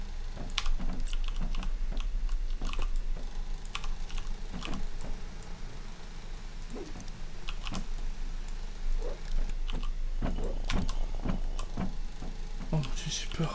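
Typing on a computer keyboard: irregular bursts of crisp, close key clicks scattered through a steady background hiss.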